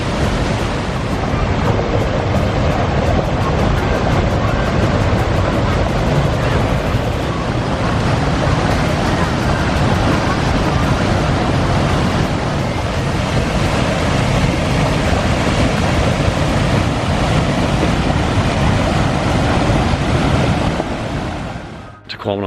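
Tahquamenon Falls pours tannin-darkened water in a loud, continuous roar, a dense broadband rush with wind buffeting the microphone, steady for over twenty seconds before cutting off.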